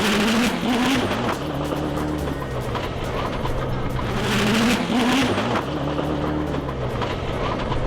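A K24-powered Honda EK Civic drag car running about 1,100 horsepower on 2 bar of boost roars loudly through a run, its rising engine note swelling and surging continuously with no talk over it.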